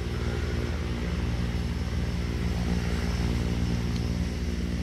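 Propeller engine of a skydiving airplane taking off from Pennridge Airport, a steady loud drone held throughout with no voices.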